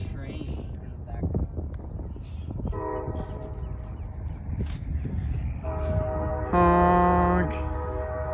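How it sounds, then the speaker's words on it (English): A train horn sounds twice from a passing train in the background, the second blast longer and louder, over steady rumble, wind noise on the microphone and people talking near a tennis court. "Lovely train in the"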